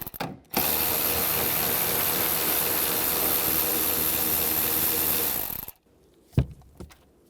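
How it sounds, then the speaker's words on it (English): A socket ratchet with a 10mm socket spins off nuts on a Chevy Cobalt tail light, a fast continuous clicking run of about five seconds, close and clear, then a few separate knocks. "I'm going to use the 10mm socket, take these nuts off."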